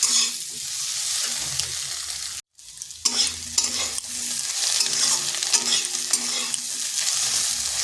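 Steady sizzling of potatoes frying in a pan, with scraping stirs throughout and a brief pause partway through.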